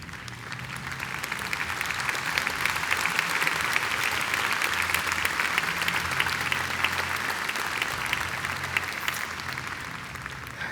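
Sustained audience applause from a large crowd at a Christian conference, dense steady clapping that holds at an even level throughout without voices.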